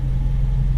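A Toyota car's carburetor engine running with the gas pedal pressed, a steady, loud, close low rumble held at raised revs with no talk.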